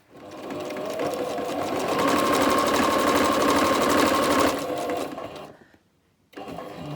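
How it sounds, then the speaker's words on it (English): A sewing machine stitches a rotary cutter bag in one continuous run of rapid mechanical whirring and needle thumping, speeding up then stopping briefly before starting again near the end. "And we're going to go sew along here."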